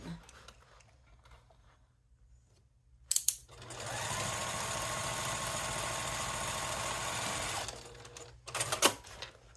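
Sewing machine stitching a cork pouch with red top thread and white bobbin, a steady close whirring run of about four seconds between short starts and stops.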